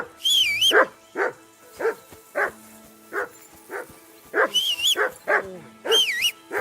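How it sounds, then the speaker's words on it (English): A dog in the video game Kingdom Come: Deliverance II barks repeatedly in sharp, evenly spaced bursts, with occasional higher yelping whines mixed in, close and clear over a quiet background. "Call off that damn dog before he wolfs down the last of our mates."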